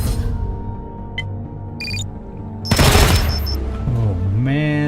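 Gunfire in the Wasteland 3 video game: a sudden loud burst of rapid shots erupts midway over a low droning game soundtrack, followed by ringing electronic tones and a swooping synthetic sound.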